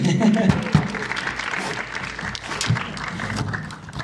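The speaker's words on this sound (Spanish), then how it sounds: "Dale un aplauso al Señor por eso." A church congregation applauds during a sermon, producing a steady wash of clapping that holds for a few seconds under voices and shouts.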